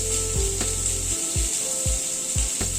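Pointed gourd (parwal) frying in hot oil, a steady bright sizzle running throughout, broken by several dull scraping strokes of a spatula in the pan.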